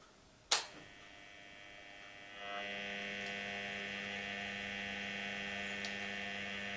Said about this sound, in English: I will now start the motor.